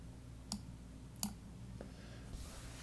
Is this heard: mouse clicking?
yes